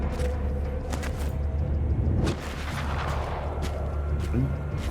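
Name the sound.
sniper rifle fire in the video game Valor Mortis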